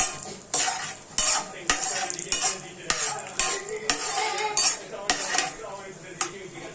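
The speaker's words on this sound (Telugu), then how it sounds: "స్లోలో పెట్టుకొని వేయించుకోవాలన్నమాట." Sweet potato frying slowly in a pan for halwa, with repeated spatula scrapes and clinks against the pan roughly every half second over a soft sizzle, close and fairly loud, no talking.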